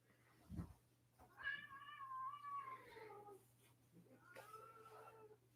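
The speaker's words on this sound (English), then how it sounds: "The cat's very upset." Agitated cats meowing and caterwauling while fighting in a hallway, drawn-out wavering yowls in two main bursts, moderately close over a low steady hum, with a thump near the start.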